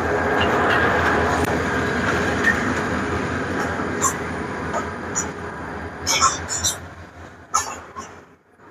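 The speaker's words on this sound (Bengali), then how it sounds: "দেখতেই পাচ্ছেন আমাদের দোলনচাঁপা এক্সপ্রেস ট্রেন আমাদের এখানে প্রবেশ করতেছে।" Dolonchapa Express passenger train pulling into a station, a steady loud rumble of wheels on rails with sharp clanks and squeals growing toward the end as it slows.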